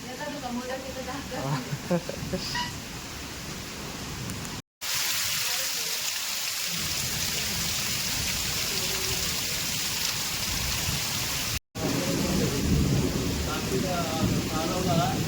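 Steady, dense unseasonal rainfall in a Konkan storm hisses throughout, with a low rumble of thunder; voices talk over it near the start and end.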